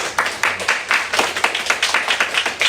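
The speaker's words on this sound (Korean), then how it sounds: "잠시 일어나셔서 우리 박수로 환영하겠습니다." A church congregation stands and claps to welcome visiting missionaries from Iraq, a dense burst of applause with sharp rhythmic clap peaks lasting a few seconds, close and fairly loud.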